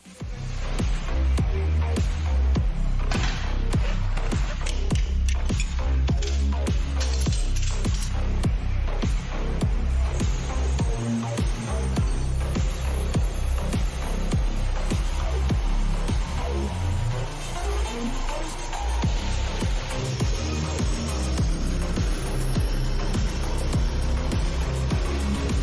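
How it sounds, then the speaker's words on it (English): Cooling fans on a race sedan roar with a steady, loud, static-like hiss as the car cools down after a street race, continuing unbroken for the full stretch. "Do you hear static? It's the fans running, the car is cooling down."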